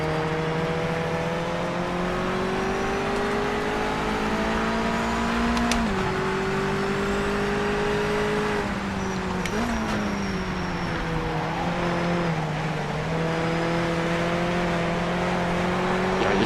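A Ferrari engine driven in the racing game PMR, a steady loud drone whose pitch climbs and falls with shifts and throttle changes, continuous and close throughout.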